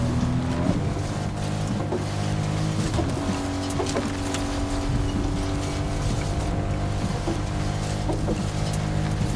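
A rough old car engine runs in the video game Fortnite, a steady, continuous droning hum with a throaty low rumble, loud and unbroken, with no talking.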